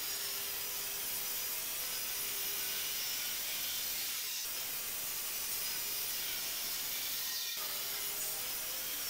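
A saw on a home-made table saw cuts fence parts from 18mm plywood, a steady, loud rasping whine that runs throughout with two brief dips in the cutting noise.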